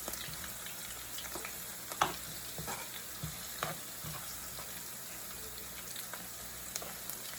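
Slit green chilies frying in hot oil give off a steady, close crackling sizzle, with scattered sharp pops and spatters throughout and no talking.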